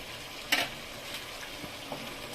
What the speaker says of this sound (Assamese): মছলাখিনি ভাজ খোৱালৈ অলপ লৰাই দিছোঁ